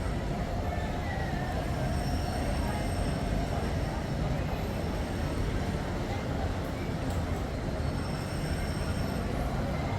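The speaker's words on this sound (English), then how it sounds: "Oh, look at the monorails coming." A Disney monorail train rumbles past continuously with a dense, steady roar of wheels and faint high squealing, loud and close throughout.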